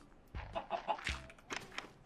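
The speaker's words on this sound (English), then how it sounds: "That's a good chicken. Now lay an egg." A video game chicken gives a few quiet, short clucks in quick succession, faint and close with no one talking.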